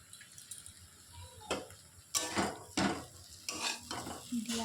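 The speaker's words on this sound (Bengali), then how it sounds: "দিয়ে আরেকটু ভালো করে কষাবো" Egg and potato curry is stirred and sautéed in a pan, with several distinct scraping strokes and clanks of the utensil against the pan over a faint background sizzle, heard up close without speech.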